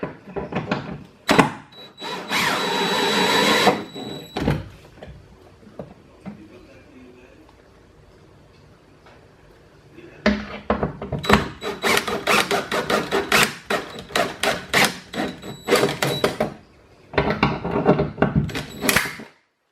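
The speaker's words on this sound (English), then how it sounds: "I think I'm going to screw these all the way in. Let's try the drill." A power drill whirs in several bursts, revving up and stopping as screws are driven into Ford OEM BoxLink interface plates and cleats, with short pauses and quieter handling noises between runs.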